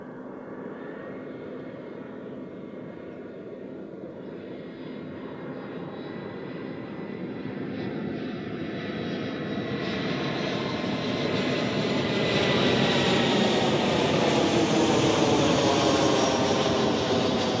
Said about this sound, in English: Next, Edelweiss with an A320 from Pristina.